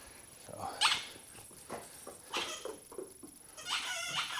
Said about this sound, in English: that's the shop life of a shop dog